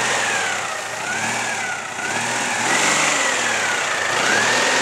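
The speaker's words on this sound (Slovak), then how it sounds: "Vypočujte si ten opravený motor." A repaired Citroen 2CV engine runs steadily at idle, a continuous close mechanical drone with slight shifts in revs and no voices.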